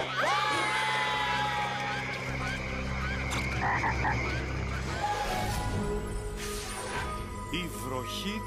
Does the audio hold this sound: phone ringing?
no